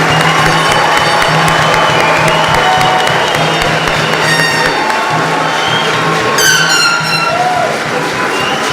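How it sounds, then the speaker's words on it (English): Crowd applause and cheering at a Hawaiʻi Air National Guard awards ceremony for Outstanding Airmen of the Year nominees, a sustained loud wash of clapping with scattered whoops and voices. "Please join me in a round of applause for all of our Outstanding Airmen of the Year nominees"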